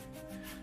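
Rubbing permanent marker lines off a resin casting mould, a steady close scrubbing sound that holds evenly through a brief moment with no talking.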